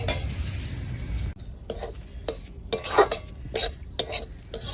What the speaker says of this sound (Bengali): চলো সুজিটা এখন ভেজে নেবো